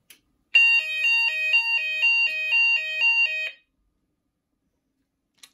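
Fire alarm sounders on a Kentec Syncro panel system with Hochiki ESP devices during a test, a loud two-tone electronic warble alternating rapidly for about three seconds and then cutting off, with no talk.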